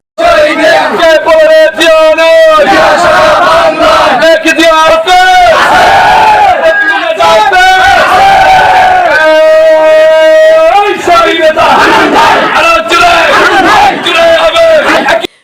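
A dense crowd chants and shouts loudly and continuously in call-and-response rhythm during a celebratory political procession through a bazaar, with a lead voice rising above the massed voices.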